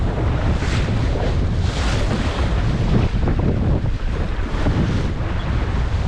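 Strong gusting wind roars across the microphone aboard a Laguna-Kombi+ sailing dinghy, with waves washing and slapping against the hull in a loud, continuous rush.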